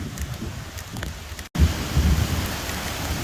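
Heavy rain pours steadily during a storm, a dense outdoor hiss with low rumbling underneath. After a brief cut partway through, the rain returns louder and fuller, with no talking.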